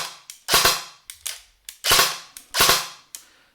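An Arcturus AT-AK05 airsoft rifle fires on full auto in several short, sharp bursts of rapid cracking shots, close and loud, with brief silent gaps between the volleys.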